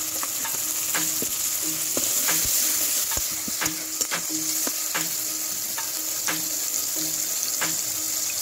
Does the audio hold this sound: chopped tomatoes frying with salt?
yes